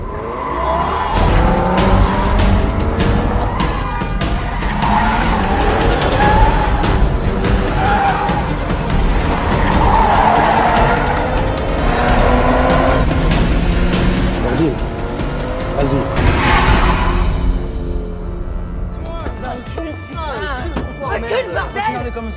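A car races and accelerates hard during a chase, engine roaring loud and close with tire squeals and skids, under a narrator's voice, then briefly easing near the end.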